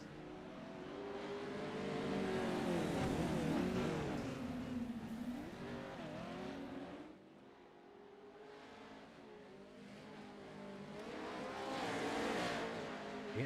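Race trucks roar around the dirt track at Bark River during a heat race, engines droning and swelling as they pass, with a steady mechanical howl that dips midway and then builds again.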